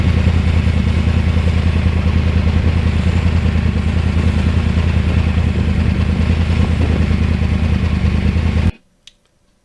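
A Yamaha R1 crossplane motorcycle engine drones loud and steady on a scenic highland ride, its low, rough pulse running unbroken for several seconds before cutting off abruptly.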